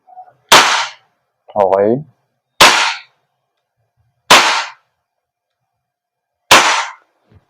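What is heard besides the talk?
WE Hicapa 5.1 T-Rex airsoft gas blowback pistol firing shots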